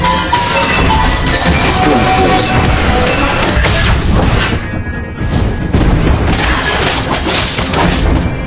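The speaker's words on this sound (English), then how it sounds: "our turret has been destroyed" Turret destruction in Mobile Legends: Bang Bang, heard as a dense, loud burst of crashing and booming explosion effects layered over continuous game sound, with no voices.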